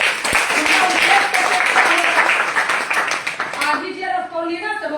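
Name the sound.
loud audience applause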